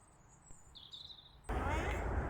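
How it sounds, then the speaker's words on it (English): A few high, thin bird chirps ring out over quiet outdoor air beside a narrowboat in spring, then a loud burst of broadband noise like wind or handling swamps the end. "Listen to the birds all singing away."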